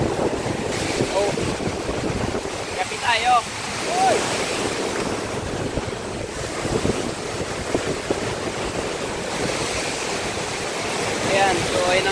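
Big waves crash onto the shore of a Philippine fishing village where boats are hauled up, with gusting wind buffeting the microphone throughout. A couple of people call out briefly over the surf.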